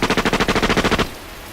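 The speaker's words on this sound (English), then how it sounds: "he heard the first sounds of gunfire" Rapid automatic gunfire from The Fruit of Grisaia visual novel: about a dozen evenly spaced, loud shots in a quick burst lasting around a second, then cutting off to a faint tail.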